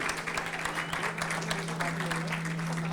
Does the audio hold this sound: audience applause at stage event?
yes